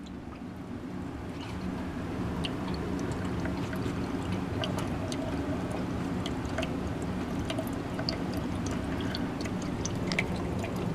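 Water drains steadily from a 15-liter Vevor KZ-F15 ultrasonic cleaner through its open drain valve. It makes a continuous rushing pour with scattered splashes and trickles, close and even, with no talk.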